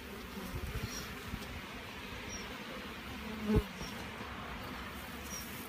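Honey bees from a treatment-free hive opened for comb inspection hum in a faint, steady drone, with a few individual bees buzzing past up close and a single soft knock midway.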